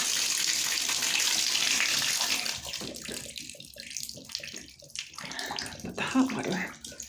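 Cold water pours steadily from a bathtub tap with a loud, hissing splash, then breaks into gurgles and sputters as a voice talks over it.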